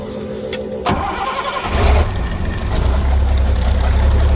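A car engine cranking with a jump box attached turns over briefly, catches with a sharp burst and settles into a loud, steady idle, heard up close with no talk.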